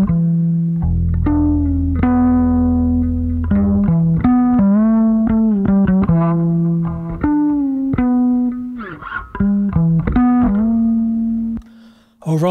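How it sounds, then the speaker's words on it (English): A melodic instrument line plays through a Behringer TO800 vintage tube overdrive pedal, with mild distortion giving the sustained, gliding notes a gritty edge; phrases rise and fall across the passage, loud and close, with no talk. "a little bit of distortion can really add to that, really make it sound like there are fingers on strings"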